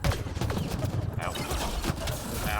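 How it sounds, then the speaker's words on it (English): Rapid bursts of gunfire aimed at the player in the sci-fi shooter Mass Effect Andromeda, dense and continuous, loud and close, layered with battle noise throughout. "Please stop shooting at me."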